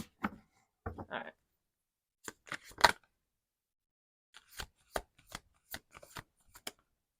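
Tarot cards are shuffled during a reading in short, crisp bursts of riffling and snapping. The bursts are separated by silent pauses, and a faint voice is barely present.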